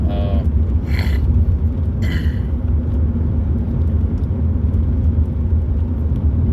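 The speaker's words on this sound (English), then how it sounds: "I'm driving and trying to pay attention to people." Steady low car rumble from inside a moving vehicle, constant and close, with a few brief higher whooshes early on and no talking.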